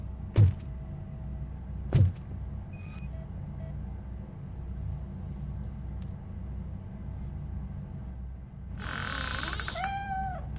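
A cat meows several times in the video game RoboCop: Rogue City, two short sharp cries near the start followed by a longer, higher wavering meow near the end, over a low ambient hum.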